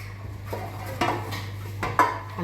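Metal baking tray clattering and scraping as it is greased with butter before layering phyllo dough, with a few sharp knocks and clinks, close by and without talking.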